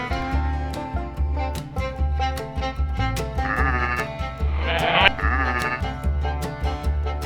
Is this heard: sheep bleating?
yes